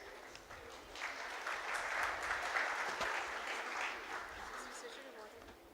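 An audience at an award ceremony claps for the winners, the applause swelling after a moment and then tapering off, with a voice faintly audible underneath.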